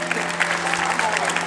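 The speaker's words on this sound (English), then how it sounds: "So everybody give Marietta a big round of applause." Crowd applause at an outdoor Walk to End Alzheimer's event in Muskegon, a brief continuous patter of many hands with a steady low hum running underneath.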